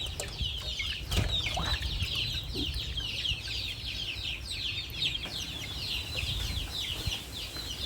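Chickens clucking steadily nearby in a rural outdoor yard, with a continuous chatter of overlapping calls and some faint wing flaps, no voices.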